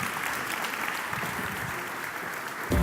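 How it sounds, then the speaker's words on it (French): Steady audience applause at a union federal congress, a sustained even wash of many hands clapping from a large hall, moderately distant, with a brief louder thump at the very end. "je vais vous demander des applaudissements nourris pour accueillir notre premier plateau"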